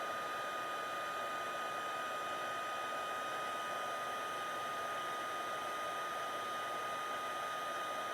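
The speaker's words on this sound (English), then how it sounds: "Okay, and then hit it with the heat gun." Heat gun blowing hot air onto puff paint on a handmade card, a continuous, even airy roar with a faint steady hum, unbroken for the whole stretch with no talking.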